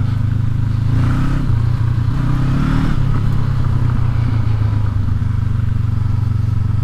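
A 2019 Honda CB500X motorcycle rides over loose gravel on a logging road, its engine droning loud and steady with slight revving swells and a gritty crunch of stones under the tires throughout.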